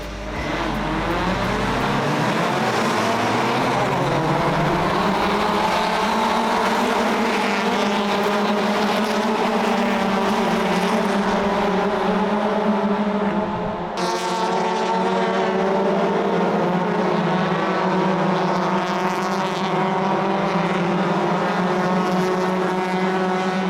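Honda Civic race cars howl past on a track in Japan, a loud continuous engine roar with rising and falling pitch as several cars accelerate and shift gears close by.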